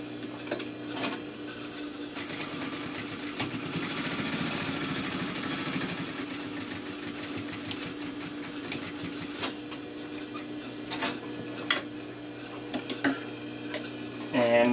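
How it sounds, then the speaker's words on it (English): A sewing machine runs continuously while stitching a welt pocket line with a back tack at each end, a steady mechanical hum with faint ticking, close and alone. "Start with back tack, sew the whole length of that line, and end with a back tack, needle up."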